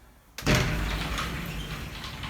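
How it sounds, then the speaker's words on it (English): An enclosed sliding glass shower door in an apartment bathroom slides open with a sudden loud rumble after a quiet moment, then keeps a sustained rolling, scraping sound as it glides along its track. "The door slides,"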